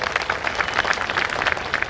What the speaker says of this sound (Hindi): जरा ताली देकर के स्वागत करिए।